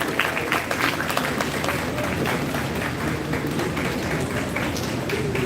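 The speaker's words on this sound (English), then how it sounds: "Please give him a round of applause." Applause from an audience at a college department session as the head of department is welcomed onto the dais, a steady patter of clapping running throughout with a voice or two under it.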